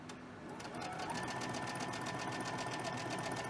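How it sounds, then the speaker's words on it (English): A sewing machine chain-stitches a run of cotton fabric pieces, running steadily and continuously at close range with a fast, even mechanical whir throughout, no talking. "So we're just going to chain stitch all of these"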